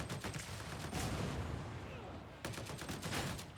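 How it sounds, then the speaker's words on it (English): Rapid gunfire from a braced weapon in the game Warhammer 40K: Darktide, loud and close, a dense burst of shots, a brief break, then a second burst. "we're just going to brace and fire it"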